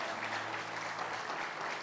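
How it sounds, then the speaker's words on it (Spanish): Church congregation clapping together during a Saturday general service, a dense continuous applause filling the room, loud and steady throughout with no voice on top. "Dale un aplauso al Rey de Gloria."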